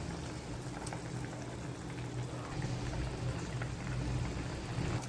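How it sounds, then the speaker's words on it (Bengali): Water boils in a curry pot with fried potatoes, a soft, continuous bubbling and gentle popping at low volume with no talk. "এবার জল দিলাম, ফুটে উঠেছে।"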